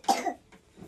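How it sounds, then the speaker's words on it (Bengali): A girl coughs once, a sharp, close, raspy burst followed by a faint catch of breath and a soft throat-clearing sound. "তোর কাশি হয়ে আছে বুড়ির মতো"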